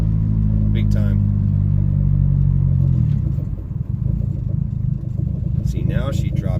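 Engine of a boosted EG Honda Civic with a replacement idle air control valve idles, a loud low rumble that drops in pitch partway through as the revs settle, with someone speaking briefly over it.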